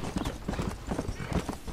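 A horse galloping in Red Dead Redemption on a long ride, close rhythmic hoofbeats in quick repeating groups, loud and clear with no talk over them.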